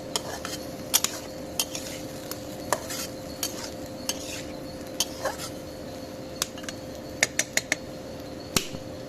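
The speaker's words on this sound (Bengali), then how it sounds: "এখন একটু লাড়া দিয়ে দিব।" A spoon stirs drumstick and potato curry in a pot, producing sharp irregular clicks and scrapes against the metal over a soft, steady background hiss.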